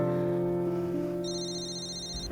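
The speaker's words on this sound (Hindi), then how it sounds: "भाई वानी का फोन आ रहा है" A phone rings with an incoming call, an electronic ringtone chiming in steady repeated tones over a low background hum, short and fairly faint, no voices.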